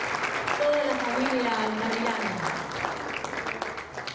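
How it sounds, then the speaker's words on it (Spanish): Crowd applause at a university graduation ceremony, a steady wash of clapping from many hands, moderately loud and diffuse, with a voice speaking over it. "Fuerte el aplauso para toda la familia."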